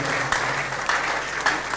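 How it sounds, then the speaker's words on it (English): An audience claps steadily at a company event honouring a guest, a dense even patter with a few sharper accents, moderately loud and without talk. "I thought the clap would be louder than this"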